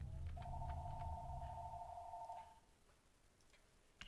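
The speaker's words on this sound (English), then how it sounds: "I've got a phone call coming." An incoming telephone call sounds as a single sustained electronic ring tone, moderately loud against a low hum that fades, followed by near quiet and a small click at the end.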